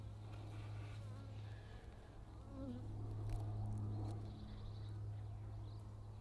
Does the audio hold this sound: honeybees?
yes